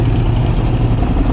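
A Harley-Davidson XR1200 motorcycle with just over 9,000 miles idles with a steady, loud, low exhaust rumble that is close and continuous and carries no talk.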